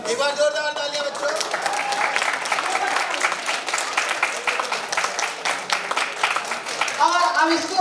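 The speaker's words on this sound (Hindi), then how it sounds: "एक बार जोरदार तालियां बच्चों" Children applaud loudly at a Louis Braille birth anniversary ceremony, a dense, steady crowd of claps that stays strong throughout, with a lone voice rising over it near the end.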